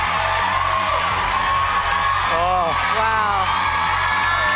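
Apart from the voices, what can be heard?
TV studio audience cheering wildly at Australian Idol finale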